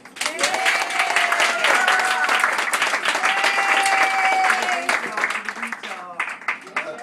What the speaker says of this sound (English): round of applause for Lady B.